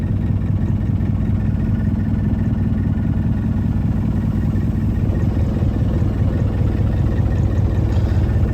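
The diesel engine of a 1992 Land Rover Defender 90 idles just after starting, giving a steady, close, low rumbling drone that holds unchanged throughout with no talk.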